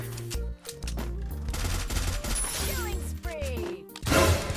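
Rapid automatic gunfire from the mobile battle-royale game Free Fire, dense and continuous bursts layered with game effects and music, swelling into a loud burst near the end.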